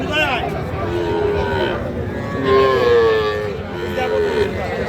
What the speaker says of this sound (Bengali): এইটা কিন্তু একটা সার বাছুর